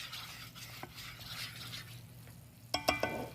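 A flour and butter roux for cheese sauce cooking in a pan, a quiet low sizzle with faint stirring scrapes, ending in a few louder clinks of a utensil against the pan.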